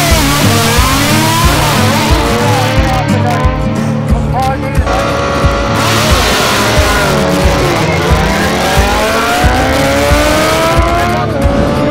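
A drag-racing motorcycle converted from a new bike with a standard engine and air shifter, at a West Cork club drag race, revs loudly and continuously at close range, pitch climbing and sweeping repeatedly through quick shifts.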